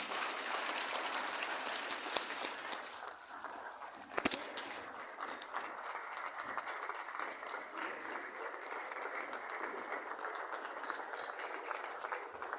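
An audience at a formal programme gives a standing ovation, steady broad applause from many hands holding at a moderate level for over twelve seconds, with one sharper clap spike.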